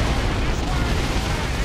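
An artillery barrage from Basilisk guns in a Warhammer 40,000 strategy game pounds away as a dense, continuous low rumble of overlapping booms, loud and steady throughout.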